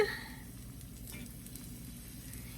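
Bacon cream cheese rangoons are dropped into hot frying oil, giving a steady, soft crackling sizzle close by that fades slightly after the first splash, with no talk.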